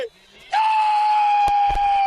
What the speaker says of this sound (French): Trop de cris, hein.